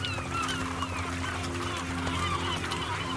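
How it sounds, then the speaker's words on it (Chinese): Seagulls call by a salmon river where grizzly bears feed on fish, their cries overlapping above a constant low hum and rushing background. "海鸥"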